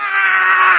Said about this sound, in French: Pas de cris aigus comme ça